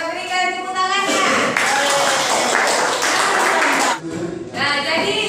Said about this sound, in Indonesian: Kita berikan tepuk tangannya.